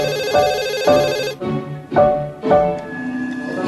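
A telephone rings in repeated short bursts, a ringback tone heard while calling someone, with a steady electronic pattern and brief gaps between rings, close and alone with no talk.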